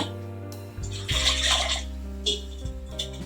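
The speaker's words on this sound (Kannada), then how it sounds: "ನನಗೆ ಇದಕ್ಕೆ ಇನ್ನೂ ಸ್ವಲ್ಪ ನೀರು ಬೇಕು ಅನ್ನಿಸ್ತು ಅದಕ್ಕೆ ನಾನು ಇನ್ನೂ ಸ್ವಲ್ಪ ನೀರನ್ನು ಕೂಡ ಆ್ಯಡ್ ಮಾಡ್ಕೋತಾ ಇದ್ದೀನಿ" Extra water is poured from a vessel into a pot of jackfruit sambar, a brief splashing rush lasting about a second over a steady kitchen hum.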